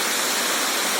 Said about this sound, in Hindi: ऊंचाई से गिर रहा है पानी।